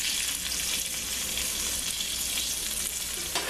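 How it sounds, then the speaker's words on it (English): Chicken thighs sauté in a pan with a dense, even, close-up sizzle that runs steadily throughout, with no voices. "I'm going to start the sauteing"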